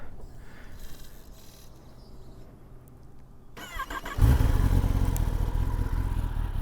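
A stock 2024 Kawasaki Ninja ZX-10R sportbike starting up after quiet surroundings, then settling into a loud, steady close idle, birds faintly audible before the start.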